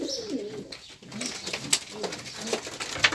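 Pigeons cooing softly around a dovecote nest as the birds are let out, low murmuring coos recurring through the clip with some faint background voices and rustling.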